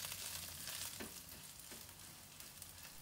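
Fish cake is stir-fried in a wok with garlic, producing a faint, steady sizzle with light scraping stirs throughout.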